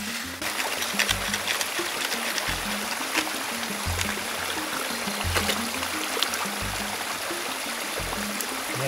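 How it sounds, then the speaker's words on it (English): Deep water flowing steadily through a wasabi field, a continuous rushing stream with faint low thumps underneath and no voices. "deeply flowing water."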